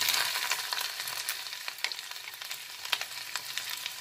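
Garlic and ginger frying in hot oil for momo stuffing, a steady bright sizzle with scattered crackles and pops throughout, fairly faint and close, with no talking.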